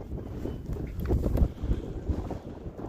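Strong outdoor wind buffets the microphone in a steady low rumbling roar that swells and gusts throughout, loud and close with no other sounds standing out.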